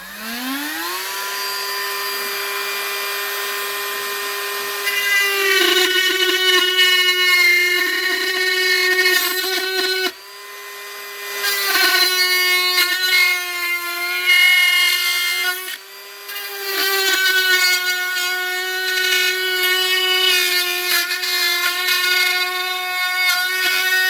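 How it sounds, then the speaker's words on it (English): A Dremel fitted with a coarse Permagrit rotary bit spins up and grinds into a resin-printed part, giving a loud, tonal high whine whose pitch rises at the start and dips briefly a couple of times under load. "Dremel ready with a Coarse Dremel, Permagrit Rotary. And what I'll do is I'm going to open out the bottom."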